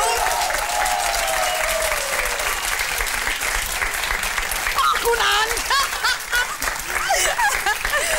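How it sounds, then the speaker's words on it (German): Dense, steady studio audience applause on a German talk show, loud and continuous throughout, with some chuckling, whistles and a brief spoken remark riding over it. "Ja, dein Applaus, Sabrina."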